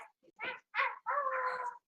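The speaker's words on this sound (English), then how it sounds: "Puppy stream! Yay, doggo!" A puppy whimpers and yips in three short, high-pitched whining bursts, the last one longer and drawn out, heard close and alone with no talking.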